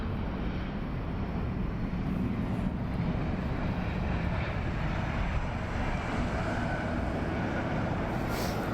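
A jet airliner landing at London Heathrow in a crosswind gives a steady, continuous broadband roar that holds at an even loudness throughout, with no voices.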